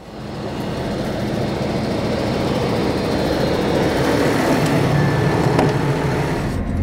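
The automatic folding arm on a Garant slurry tanker spreader retracts under a steady, loud mechanical roar of tractor and hydraulic drive, a continuous broadband hum that swells slightly as the arm folds, close by and without speech.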